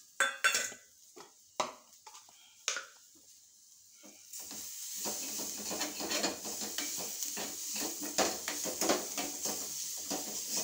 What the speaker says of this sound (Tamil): இல்லை இப்படி கிளறிக்கிட்டே இருக்கணும், கைவிடாமல் கிளறிக்கிட்டே இருக்கணும்.